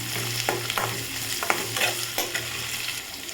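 Curry leaves sautéing in a pan for village-style chicken sukka: a steady sizzle broken by repeated scraping stirs of a spoon against the pan, close and without talk.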